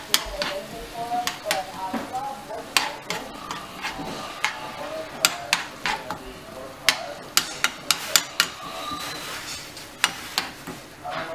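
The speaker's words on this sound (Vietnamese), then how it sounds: "trộn đều lên" Scallop sauce with green onions stirred in a pan with a utensil, giving irregular sharp clicks and scrapes against the metal over a soft sizzle, with a voice talking at times.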